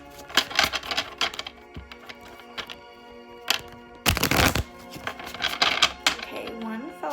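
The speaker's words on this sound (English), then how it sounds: "one fell out while I was shuffling the cards" A deck of cards is shuffled by hand close up, giving bursts of crisp riffling and flicking with a longer loud riffle partway through, and no talking.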